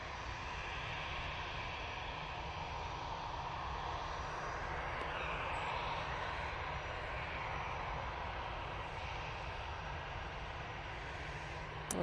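A Virgin Airbus A350 crossing a runway at Manchester Airport gives off a faint, steady jet engine hum with low rumble, distant and unchanging throughout.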